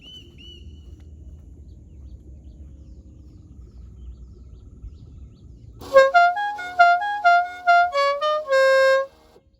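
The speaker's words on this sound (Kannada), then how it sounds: "ಹಾರ್ನ್ ಹಾಕ್ತಿ ಈಗ" Low rumbling background, then a loud tuneful musical air horn on a Maruti Suzuki Ritz car blares in a rapid sequence of melodic bursts, playing a tune.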